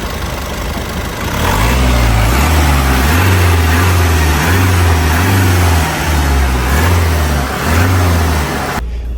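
A van engine runs close by, its low rumble rising and falling in repeated gentle revs, steady and loud throughout.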